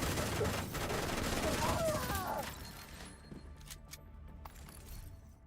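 Rapid automatic gunfire from a deployed turret in a shooter game, loud and dense for about two and a half seconds with crashing impacts, then dropping to scattered quieter shots and mechanical clatter.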